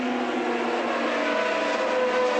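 1981 British Grand Prix start as Formula 1 cars pull away together, a dense, continuous high-pitched roar of many engines at moderate distance, steady and without talk.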